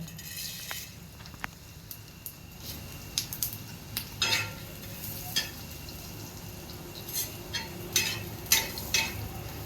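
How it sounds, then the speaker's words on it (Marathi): Onion roasting in a pan for a village-style fish dish, with a low sizzle under sharp metallic clinks and scrapes of a utensil stirring at irregular intervals. "आणि इकडं आपण कांदा भाजायला ठेवलेला आहे"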